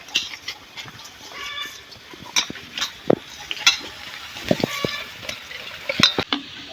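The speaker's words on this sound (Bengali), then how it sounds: "পেঁয়াজ ভাজিটা হতে থাক" Onions fry in a pan for a rohu fish and cauliflower curry, heard as a soft sizzle beneath irregular stirring clinks and scrapes of a spatula against metal, fairly close.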